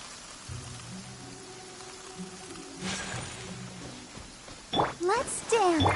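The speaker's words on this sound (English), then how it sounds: "Let us find shelter from the rain." Steady rain patters across a surface throughout, with a few bright chimes and short musical tones rising near the end, in the video game Genshin Impact.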